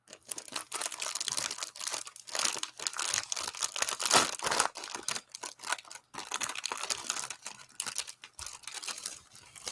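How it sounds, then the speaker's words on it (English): Crinkly plastic-and-paper packaging from a Warhammer Combat Patrol magazine kit gets crumpled and torn close up, a busy stream of sharp crackles and rustles with short pauses and no talking. "Let's just the noisy bit, which is all the crinkly paper."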